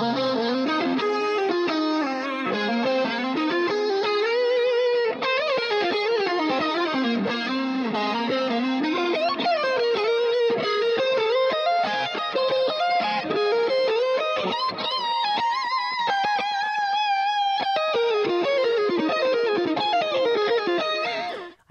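Electric guitar plays a lead line through a DS1 distortion pedal, amp simulation, IR loader and two delays on a MOD Dwarf, giving a sustained, singing distorted tone with melodic runs and trailing repeats that end abruptly.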